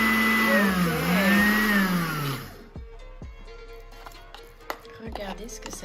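A blender whirs loudly and steadily, mixing fresh pesto with salt, with a rising and falling pitch before it cuts out, followed by quieter clatter and knocks.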